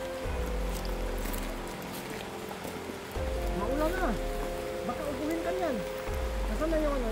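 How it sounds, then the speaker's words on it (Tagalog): Steady rain hiss pours down through a horror game set beside a ravine, continuous throughout, with a dip around three seconds and wavering whistle-like tones rising over it. "Maulan na."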